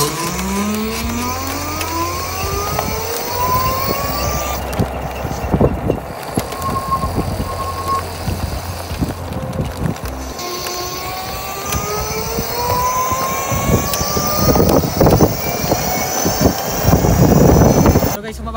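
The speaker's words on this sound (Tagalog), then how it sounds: "kung ano yung tunog ng electric big bike na ito" A Star 8 Manta electric big bike with a 3000 W motor runs loudly nearby, its whine rising and falling in pitch through several accelerations like a jet engine, with speech over the top at times.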